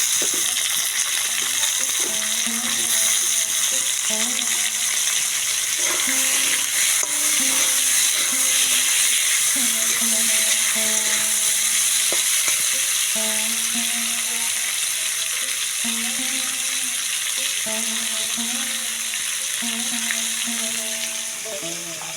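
Raw tomatoes coated in salt and turmeric fry in a pan with a continuous sizzle and occasional stirring scrapes, while background music plays throughout.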